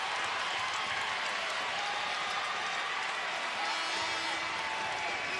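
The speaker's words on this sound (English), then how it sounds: "And the crowd going crazy because walk-on Rem Bakamis is coming into the game" A home basketball crowd at a Gonzaga versus Santa Clara game cheers loudly as a freshman walk-on enters, a dense, sustained roar of voices and clapping that fills the whole stretch without a break.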